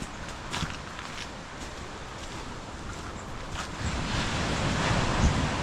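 Surf washing onto a beach at high tide near Esperance, a steady broadband wash with wind noise over the microphone, growing slightly louder toward the end, no voices.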